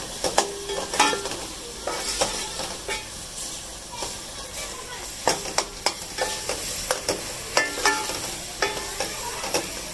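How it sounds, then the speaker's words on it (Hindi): Chili masala fries for aloo gobi with a steady close sizzle and hiss in the pan, broken by sharp, irregular scrapes and clinks of a spoon stirring against the metal. "थोड़ा मसाला भून के सब्जी डालते हैं। मसाला भून चुका"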